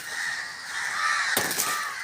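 A few crows caw harshly in a village, with one near, loud call standing out against a faint, steady background hum.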